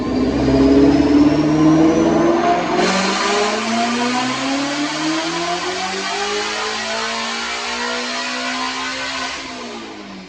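A 2018 Ford GT350 with a Whipple supercharger and Kooks exhaust roars through a dyno pull: one long, loud, rising rev with a climbing pitch and supercharger whine, then a drop-off as the throttle closes.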